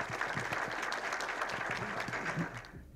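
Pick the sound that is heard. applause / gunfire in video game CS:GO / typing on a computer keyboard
applause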